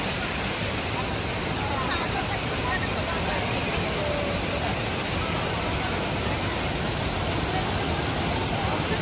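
Vera Falls in Malinao, Albay, a waterfall with swimmers around it, roars as a steady, loud broadband rush of falling water that fills the whole stretch without a break.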